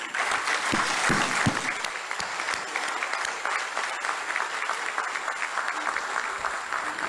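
Sustained applause with scattered cheers fills a senate assembly chamber in Côte d'Ivoire, a dense, steady wash of many hands clapping at moderate distance for the full length.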